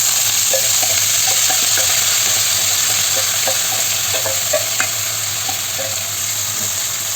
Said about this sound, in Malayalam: ഇനി നമ്മൾ തയ്യാറാക്കി വെച്ചിരിക്കുന്ന കാബേജ് ഇതിലേക്ക് ചേർത്ത് കൊടുക്കാം.